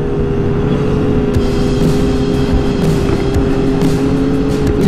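A 900 motorcycle rides a twisty road, its engine droning loud and steady with constant wind rush, heard up close from the rider's position.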